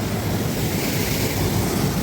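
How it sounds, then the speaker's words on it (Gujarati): An icy glacier-fed mountain river near Kedarnath rushes past, a loud, unbroken broadband roar of churning water close at hand, with wind buffeting the microphone and no voices. "જો નદી હાલે મસ્ત"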